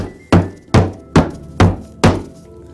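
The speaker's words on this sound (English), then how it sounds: "Start hammering away on it." A hammer strikes a cork floor with a tough ceramic-bead wear layer five times in a steady rhythm, each blow a loud, close, dull thud, with no voices.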